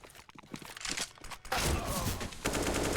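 Rapid P250 pistol shots ring out in a Counter-Strike esports match, a loud burst of gunfire following quieter footsteps and game ambience.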